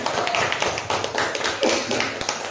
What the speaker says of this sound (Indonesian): aplaus dulu untuk Bu Lela